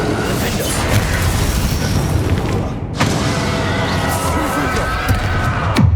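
Bombarda blast spell going off in the Hogwarts Legacy final boss fight against Ranrock, a loud sustained rumbling boom with debris and crowd-like noise, a brief dip then renewed roar, under spoken spell calls.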